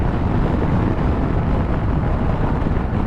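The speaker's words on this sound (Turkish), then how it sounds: "Hava çok rüzgarlı ya." Strong wind roars and buffets the microphone continuously while riding a BMW S1000XR motorcycle, a dense, steady rumble with no other sounds standing out.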